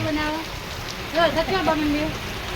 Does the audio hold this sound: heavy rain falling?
yes